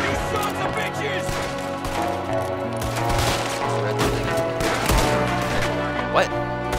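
Scattered gunshots in the video game Red Dead Redemption 2, several sharp cracks mixed with crashes and splintering, heard under excited talking and game music.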